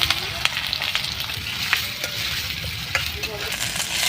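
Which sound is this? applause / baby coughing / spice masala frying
spice masala frying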